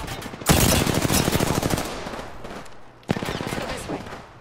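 Rapid automatic gunfire in an Apex Legends match, a loud sustained burst followed by a short pause and a second close burst, with game voice callouts over it.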